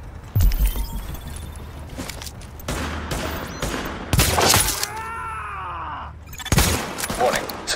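Gunfire in The Division video game comes in sharp bursts and volleys between stretches of rumbling combat ambience, with a groaning mechanical tone in the middle and a voice heard during the fight.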